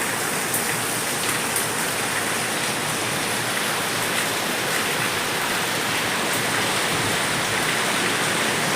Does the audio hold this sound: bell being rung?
no